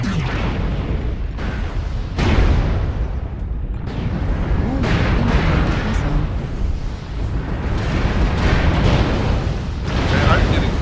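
Missile impacts and explosions in the MechWarrior Online combat game, heavy continuous booming and rumbling blasts filling the scene, loud and dense throughout with a brief lull partway through.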